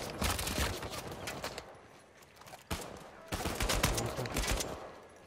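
Repeated gunfire from an Uncharted 4 firefight rattles in quick bursts, with a lull in the middle before the shooting resumes, and voices are heard under the shots.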